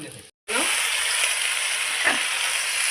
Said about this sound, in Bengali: এই যে মাংসগুলো আগে ভাজা ভাজা হবে